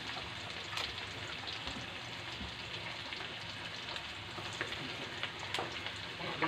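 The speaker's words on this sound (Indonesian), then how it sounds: "Goreng ya ayamnya dulu ya." Chicken pieces fry in a pan for a sweet, sour and spicy dish, giving a faint, steady sizzle with small crackles and pops and no voices.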